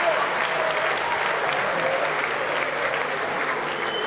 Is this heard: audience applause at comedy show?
yes